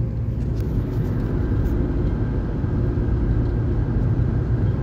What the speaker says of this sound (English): Moving car, excellent.